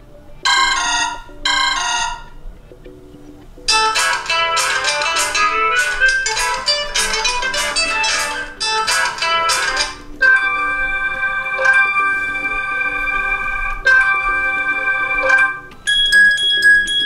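Several short electronic Philips S318 phone ringtone melodies play one after another, bright chiming tones with brief pauses between them, loud and clear with no voices.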